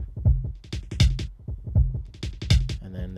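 A drum beat in a modular patch runs through a Chronoblob delay, its thumping kicks and snappy, bright hits looping in a steady pattern smeared by dense echoes, close and loud with no voices.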